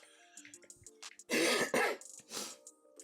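A sick person's rough throat-clearing cough bursts out, followed by a second harsher hack, close and alone amid faint background sounds.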